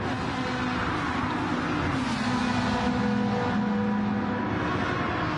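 Several GT race cars in a Gran Turismo-style Group 4 European GT online race run side by side down a main straight, engines droning loud and steady with slight pitch shifts as they slipstream, no voices over the noise.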